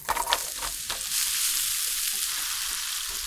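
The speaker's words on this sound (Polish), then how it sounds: "Pokrój grzyby w plastry. Podsmaż na patelni z oliwą z oliwek." Sliced mushrooms fry in a pan of hot olive oil, giving a steady, close hiss of sizzling after a few quick clatters at the start.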